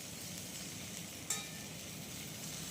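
Mixed vegetables with cumin, including taro, fry in a pan with a constant, even sizzle. A single sharp clink sounds partway through, and no one speaks.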